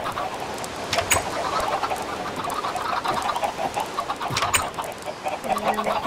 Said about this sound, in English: We'll just put this room full of chickens